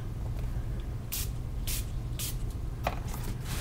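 A spray bottle squirts in several short hissing bursts, spaced about half a second apart, close by over a steady low background hum.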